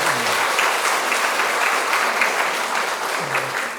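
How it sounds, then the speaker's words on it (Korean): Sustained applause from a church congregation at a pastor's installation service, a dense steady wash of clapping that holds at even loudness throughout, with a faint voice briefly underneath. "박수 한번 해주시죠"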